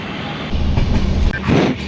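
A passenger train running four hours late on the Tenali to Haridwar route lurches into motion, and a deep, close rumble swells as the carriages begin rolling, with a brief sharp clank partway through.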